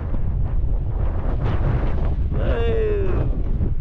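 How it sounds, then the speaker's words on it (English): Strong wind buffets a microphone fitted with a small wind muff, on an exposed hillside on a hike across the Isle of Skye in Scotland, a loud continuous roar filling the whole clip, with a brief rising whistle-like tone near the end. "it's windy"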